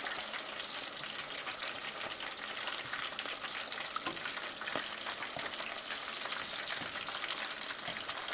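Pieces of rattlesnake meat fry in hot oil with a steady, dense sizzle that holds loud and even throughout, with faint crackles and pops rising above it.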